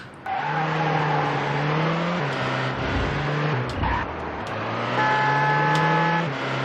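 A car in the video game The Getaway drives loudly at speed, its engine note rising and falling through gear changes, with tire squeal and skidding mixed into the continuous roar.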